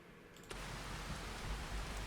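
Rain falling on a farm, a faint, even hiss of drops that begins abruptly and continues steadily with a low rumble beneath, no voices present.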